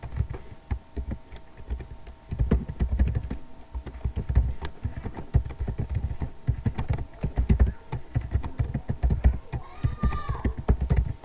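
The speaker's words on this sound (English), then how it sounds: "Type basic or default as HTML structure code." Someone types HTML code on a computer keyboard, with close, continuous clicking and tapping of keys in irregular bursts over a faint background hum, with no talking.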